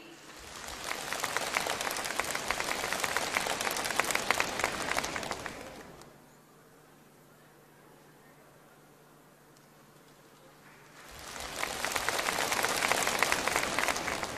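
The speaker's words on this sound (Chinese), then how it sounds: "让我们掌声欢迎" A crowd breaks into applause welcoming a speaker to the stage. Loud clapping runs for about six seconds, drops to a quiet hush, then swells again into a second strong round.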